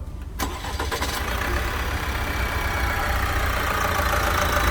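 An Opel Astra K engine with a timing chain noise fault cranks over and catches, then keeps running at a steady, loud idle that fills the rest of the clip.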